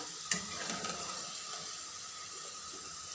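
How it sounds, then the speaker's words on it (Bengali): Soft, steady sizzling of potatoes frying in a pan, with a few light scraping clicks near the start; no voices. "আমার আলুটা ভাজা হয়ে গেছে এখন নামিয়ে ফেলবো"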